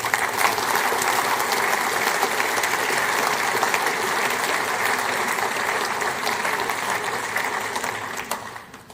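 An audience at Lord's gives a steady round of clapping during the MCC Spirit of Cricket Cowdrey Lecture, dense and even for several seconds before thinning out and fading.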